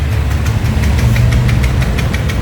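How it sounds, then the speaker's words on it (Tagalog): Suzuki Burgman Street EX scooter engine idling roughly, with a steady rapid ticking from the decompressor at the cylinder head layered over a low mechanical rumble, close and continuous. "Yun yung decompressor dun sa may cylinder head."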